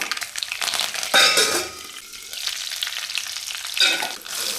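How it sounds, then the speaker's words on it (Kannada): Mustard seeds, cumin and curry leaves sizzling and crackling in hot oil for a South Indian vegetable saagu tempering, a steady close frying hiss with brief louder bursts of spluttering. "ಈಗ ಸಾಗುಗೆ ಒಗ್ಗರಣೆ ಹಾಕೋಣ ಸಾಸಿವೆ ಸಾಸಿವೆ ಸಿಡಿತಿದ್ದಂಗೆ ಜೀರಿಗೆ"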